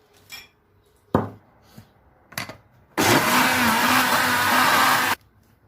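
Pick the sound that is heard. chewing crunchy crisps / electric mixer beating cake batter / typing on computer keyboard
electric mixer beating cake batter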